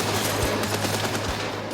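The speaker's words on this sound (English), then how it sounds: "It spits out 500 rounds a minute." Rare Second World War machine gun rated at 500 rounds a minute, heard as dense continuous broadband firing noise with a steady low hum and no clear gaps across under two seconds, loud and close.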